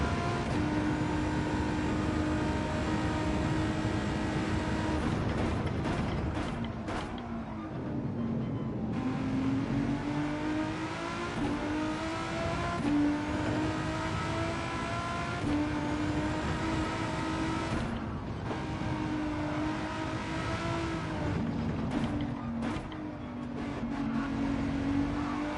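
Volkswagen GTI VGT in a racing video game on Deep Forest Raceway, its engine droning loud and steady as it revs up through a seven-speed gearbox, the pitch climbing and dropping with each gear change.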